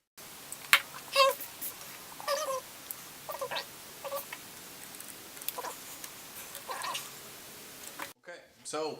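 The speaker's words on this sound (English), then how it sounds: "the cat comes to the door just like a freaking dog" A house cat at a door gives a series of short, faint meows and scratchy calls, spaced irregularly in a quiet indoor room, ending with a brief burst of other noise.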